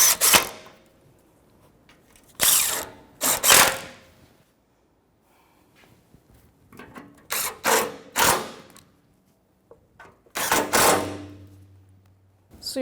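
Bolts are tightened on a Nissan Frontier AC condenser with a ratchet, producing several short bursts of rapid clicking separated by brief pauses, close and fairly loud.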